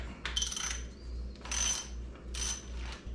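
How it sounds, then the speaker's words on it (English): A tool unscrews the non-drive-side bottom bracket on an e-bike during a Bafang BBSHD mid-drive installation, giving three bursts of ratcheting, clicking metal over a low steady hum, close and moderately loud. "now I'm gonna remove the bottom bracket"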